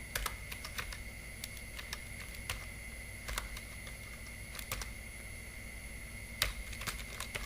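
Typing a sheet name in Excel on a computer keyboard, with a run of sharp close keystrokes spaced unevenly over a steady electrical whine and background hiss, no talk.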